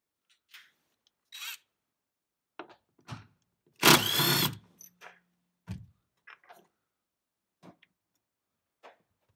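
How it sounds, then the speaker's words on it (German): A 17 mm seat belt bolt on a VW Golf 4 is worked loose with a ratchet, giving sparse clicks and scrapes around one longer burst of tool noise in a quiet car interior. "Das ist eine 17er Schraube, die werden wir jetzt einmal herausdrehen."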